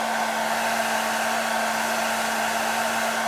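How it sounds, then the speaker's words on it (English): A hair dryer blows steadily at close range, heating the plastic coating of a scale model truck's airline in one unbroken whirring roar. "Just use, like I said, a hair dryer."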